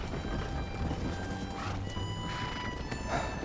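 Horse hooves clip-clop steadily at a walking pace in Red Dead Redemption, a close, continuous hoofbeat rhythm with an occasional whinny and no talking.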